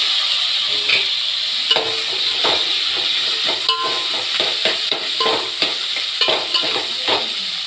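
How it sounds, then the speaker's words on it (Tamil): Chopped ivy gourd and softened, salted onion sauté in a pan, giving a loud, close, steady sizzle broken by repeated scraping stirs at an uneven rhythm, with no voices. "வெங்காயம் வதங்கிடுச்சு, கட் பண்ணி வச்சுருக்கு கோவக்காய் போட்டுடலாம்."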